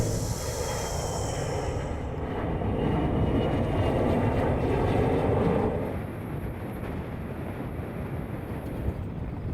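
Steady broadband drone of an airplane cabin during a three-hour flight to the Arctic, a continuous rushing roar that swells briefly and then settles, with no voices.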